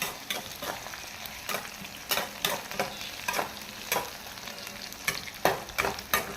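Onions sauté golden brown in a pan with a continuous close sizzle, punctuated by repeated rhythmic scrapes and taps of a spatula stirring them.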